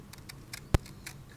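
A single sharp snip of scissors closing on paper, quick and close, with faint soft taps around it in an otherwise quiet room.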